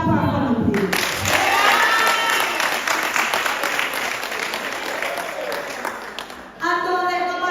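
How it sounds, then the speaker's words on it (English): An audience at a high school parents' month celebration breaks into sustained applause, a dense wash of clapping that swells early and gradually fades, with a speaking voice returning at the end. "Clap for me, please."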